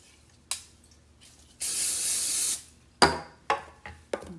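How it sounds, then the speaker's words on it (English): Cooking spray hissing from a can into a baking pan for pumpkin bread, one steady burst of about a second, close and fairly loud, with clicks and clatter of the can and pan around it. "So I'm going to spray this."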